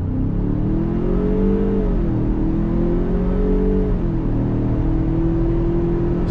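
A 2021 Ford Ranger Tremor pickup with a 10-speed automatic pulls hard from a dead stop. Heard from inside the cabin, where engine sound is piped in, it gives a loud, continuous engine drone whose pitch climbs and dips through the shifts.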